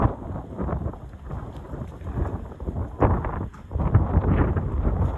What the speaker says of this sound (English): a little gust is coming in here right now.